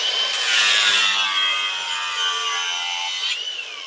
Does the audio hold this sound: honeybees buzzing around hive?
no